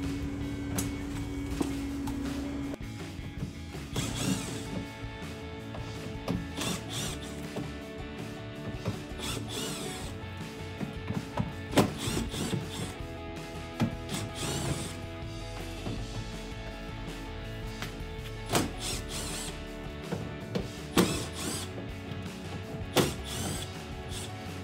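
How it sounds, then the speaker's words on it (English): Ten fender liner bolts on a 2009-2018 RAM 1500 are backed out with a 5/16 driver bit, giving repeated close mechanical whirring bursts and ratcheting clicks with scattered knocks and rubbing against the plastic liner. "In total, there's 10 bolts and they use a 5/16 driver bit to remove."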